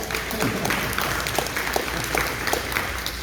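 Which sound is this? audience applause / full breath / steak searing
audience applause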